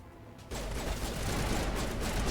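Gunfire from Geth enemies in the Mass Effect video game, starting abruptly as a dense, continuous barrage of shots that holds steady and loud to the end.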